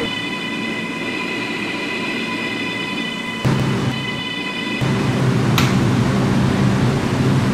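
Roblox R211 M subway train bound for Coney Island running steadily, a constant rumbling drone with high steady whine tones, growing louder and rougher midway as wheel noise intensifies; no talking.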